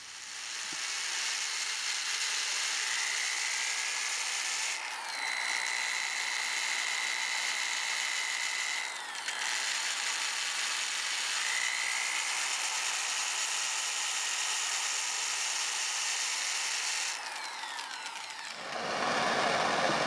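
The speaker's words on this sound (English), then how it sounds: "Then I can power sand the bottom of the bowl." A power sander works the bottom of a small turned curly maple bowl with a steady, close, continuous whirring hiss and a thin, shifting whine, running for most of the stretch before it cuts off near the end.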